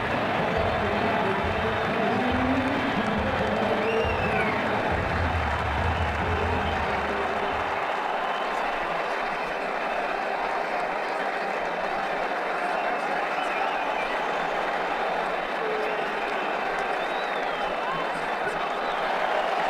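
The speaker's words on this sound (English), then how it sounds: "He's getting a polite round of applause as he makes his way to the pavilion" Polite stadium crowd applause in the Ashes Cricket 2009 video game as a dismissed batsman walks off, a steady wash of clapping with a commentator's voice over it.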